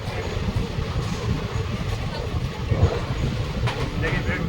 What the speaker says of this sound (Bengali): আমরা এখন কোন ট্রেনে যাচ্ছি ব্ল্যাক ডায়মন্ড এক্সপ্রেস